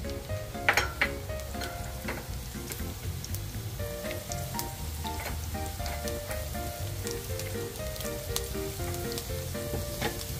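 Garlic sizzles and spatters steadily in hot oil in a pan, with crackling pops, close and continuous, and no voices.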